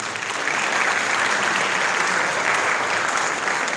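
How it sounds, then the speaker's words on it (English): An audience at a high school National Letter of Intent signing day gives steady, dense applause that swells quickly and holds at a full, even level throughout. "So give him a round of applause for Kate too."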